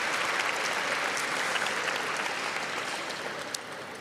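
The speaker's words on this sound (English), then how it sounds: "Can we also please give another round of applause to Reverend Robin Hedgeman of Bethany Christian Church for such a beautiful invocation." A crowd in Cleveland's Public Auditorium at a State of the City event applauds the Reverend after an invocation, steady broad clapping sustained across the moment, heard from within the hall.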